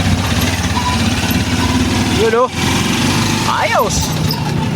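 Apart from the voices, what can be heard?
TMX 125 motorcycle engine running after starting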